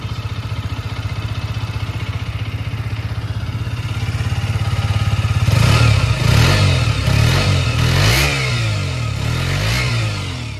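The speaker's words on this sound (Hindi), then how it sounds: "तो इसे सेल्फ मारा, वन टच में जो बाइक स्टार्ट हो गई है।" A 2022 KTM RC 125 motorcycle engine cranks with a steady electric starter whir, then catches and settles into a loud, throbbing idle with slight revs.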